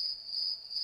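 Cricket chirping sound effect, a steady high shrill trill repeating rapidly and continuously, clear and fairly close, with no other sound.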